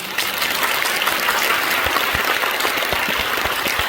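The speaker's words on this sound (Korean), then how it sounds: "하나님 앞에 다시 한번 감사의 박수를 드립니다" A church congregation claps in thanks during a Korean Liberation Day anniversary worship service at a memorial hall, a loud, dense, continuous round of applause from a large crowd.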